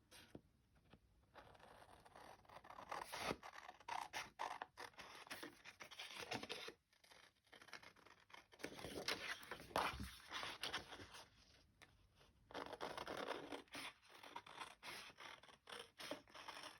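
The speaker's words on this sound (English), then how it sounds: "I'll just cut around this real quick." Scissors cut around a paper rubber-stamped image in quiet, close, repeated snips and scratchy scrapes, broken by brief pauses.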